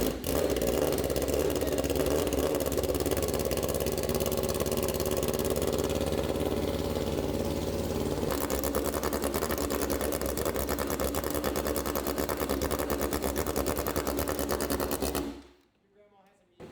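A 2025 BMW S1000RR engine with a full titanium straight-pipe exhaust, a loud raw buzzing roar held steady and close for about fifteen seconds, then cutting abruptly to near silence.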